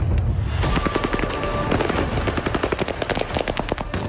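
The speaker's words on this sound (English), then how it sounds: "Only to be fired at with automatic weapons by invading enemy troops." Automatic weapons fire on invading enemy troops at civilian protesters in the streets: rapid bursts of loud, close gunfire rattle continuously, with volleys overlapping and echoing throughout.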